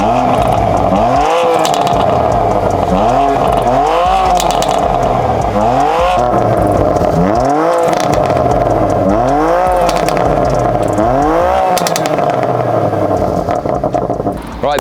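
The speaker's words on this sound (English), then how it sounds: "we're going to listen to Nathan's OPF fully stock exhaust system and listen to how that S55 sounds" A BMW M2 Competition's S55 engine with fully stock exhaust and OPF revs repeatedly in loud, rising and falling bursts, roughly every two seconds, with a steady low exhaust rumble underneath.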